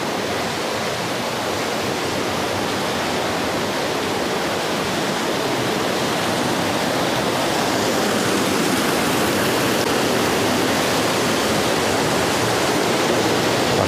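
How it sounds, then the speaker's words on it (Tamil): A waterfall inside a river in a forest pours with a loud, steady broadband roar, close and unbroken, with no voices. "தண்ணி விழுகிறது அப்படியே ஃபால்ஸ் மாதிரி கொஞ்சம் நல்லா விழுதுங்க."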